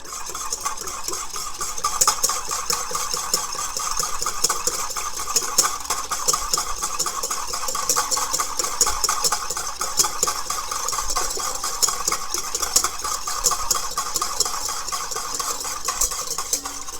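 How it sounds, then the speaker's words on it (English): Vinaigrette is whisked steadily in a bowl while olive oil and hazelnut oil are poured in, making a fast, even rhythm of light metallic ticks that continues without pause. "we'll slowly whisk this whilst we add a little bit of olive oil and our hazelnut oil"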